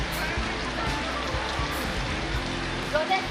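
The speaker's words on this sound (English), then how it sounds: "A floating market that's raining." Rain falls steadily at a floating market in Pattaya, Thailand, a dense continuous hiss of drops with voices talking faintly underneath throughout.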